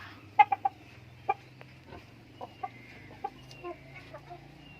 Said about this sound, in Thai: เรามีไก่อยู่ทั้งหมดสามตัว